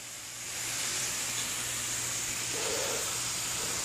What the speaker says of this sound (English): I got the beef going, you see it sizzling